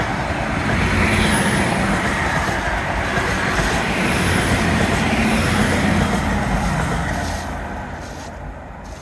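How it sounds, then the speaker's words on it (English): The Poppy train rolls past at Teignmouth near the water's edge, a loud continuous rumble and rail clatter for several seconds before easing off at the end, with no talking. "It's the Poppy train"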